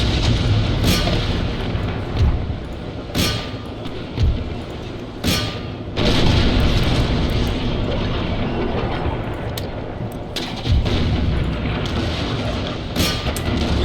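Naval cannon broadsides during a sea battle in Empire Total War, heavy booms landing at irregular intervals over a constant roar of wind, sea and battle noise.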